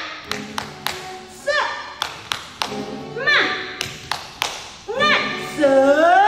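At a Sunday school service, children chant a rhythmic clapping cheer, with sharp, close claps and taps in a quick pattern and young voices chanting in between.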